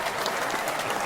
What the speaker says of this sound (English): That's actually more applause than we ever gotten.